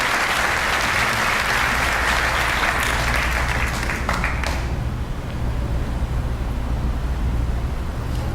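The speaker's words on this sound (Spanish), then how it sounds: "Con un fuerte aplauso." An audience at an international science conference lecture applauds, a dense, loud and continuous clapping that holds steady for the whole stretch and eases only slightly near the end.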